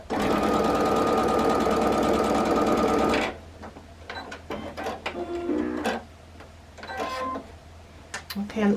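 A sewing machine stitches fabric in a fast, steady whir for about three seconds, then stops. Fabric rustling and a voice follow.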